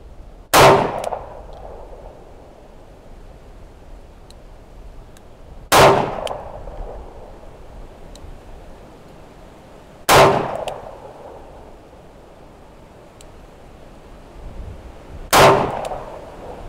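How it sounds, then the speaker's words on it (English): Four sharp handgun shots from a Smith and Wesson Performance Center Pro Series with Hornady Critical Defense 110 grain FTX rounds ring out a few seconds apart at a windy outdoor range, each a loud crack with brief metallic ring and echo. "let's go ahead and get some rounds through this with the Hornady critical defense 110 grain FTX"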